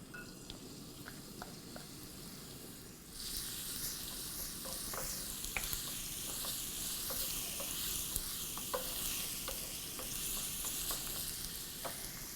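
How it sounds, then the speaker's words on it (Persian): Garlic frying in olive oil in a pan: a soft hiss that swells louder after a few seconds into a steady sizzle, with small scattered pops and ticks and no voices. "حالا یکم روغن زیتون من میریزم تو این تابه و بعدشم سیرم رو سرخ میکنم"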